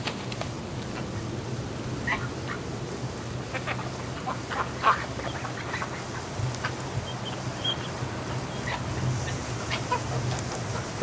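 Ducks quack and chatter in a barn during a snowstorm, scattered calls rising over a low steady background hum, some nearer and louder than others.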